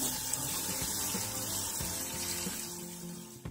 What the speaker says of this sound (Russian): и промываю холодной водой